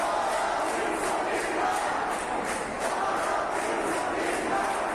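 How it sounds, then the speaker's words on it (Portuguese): A large crowd jeers during Wilson Lima's speech at an official event, a loud continuous roar of massed voices with rhythmic pulses of shouting throughout. "as vaias dos presentes tomaram conta do espaço"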